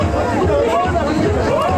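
Dense crowd of tourists packing Mall Road in Shimla at midnight, a steady loud babble of many voices with indistinct chatter and shouts over a low rumble, continuous throughout.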